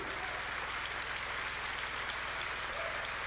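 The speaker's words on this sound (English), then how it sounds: "Don't be tired of clapping." Steady, dense applause from a church congregation during a Sunday service, continuous and fairly distant, filling the whole span without any break.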